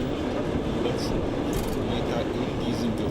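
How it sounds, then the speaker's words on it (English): A Trans-Siberian Railroad train runs through the night, its continuous rumbling roar steady and close, with faint higher clicks and squeals from the wheels on the track. "The train is driving into the night."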